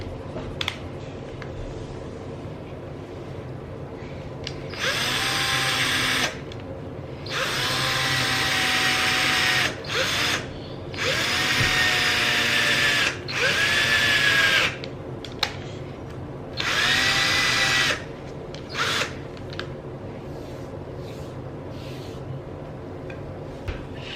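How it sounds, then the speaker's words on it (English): A power drill bores into wood in about five bursts, its motor whining up and winding down between short pauses, close by. "I'm gonna drill a little bit in."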